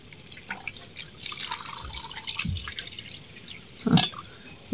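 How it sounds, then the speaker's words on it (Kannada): Water poured into a pressure cooker in a home kitchen, a soft close trickle and drip that ends in a brief louder splash. "ಫಸ್ಟಿಗೆ ನಾವು ಒಂದು ಸ್ವಲ್ಪ ನೀರು ಹಾಕೊಂಬಿಡೋಣ ರೀ ಕುಕ್ಕರ್ನೊಳಗೆ."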